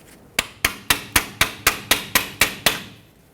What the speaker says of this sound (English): you have to just tap it with a pry bar or chisel and a hammer